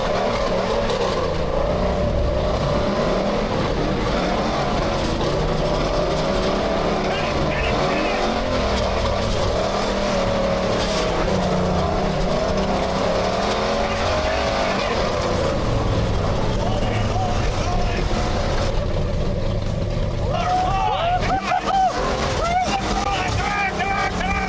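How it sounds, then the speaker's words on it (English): Old Ford F-150 with a 533 hp 460 big block V8 doing donuts off-road, a loud continuous engine roar rising and falling as it circles, joined by sharper revving bursts near the end. "First up, doing donuts."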